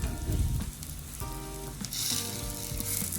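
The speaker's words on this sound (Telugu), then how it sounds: "అటువైపు కూడా 1 నిమిషం పాటు వేయించుకోవాలి" Besan-coated bread slice sizzles steadily in hot oil in a pan, a loud, continuous crackling fry with no one speaking.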